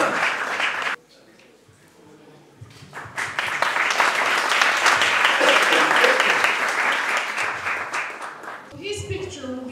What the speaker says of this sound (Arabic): صفقوا بحرارة على أسامة اللي جاي من التاسع.